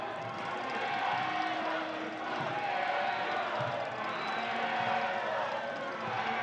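Unhappy stadium crowd at a professional soccer match, Oakland Roots versus FC Tulsa, reacting to a red card: a steady, dense roar of many voices with whistles, rising and falling slightly throughout.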